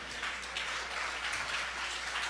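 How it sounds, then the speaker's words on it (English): Steady applause from a conference audience, a continuous dense wash of clapping with no voices over it, moderately loud and even throughout. "another round of applause"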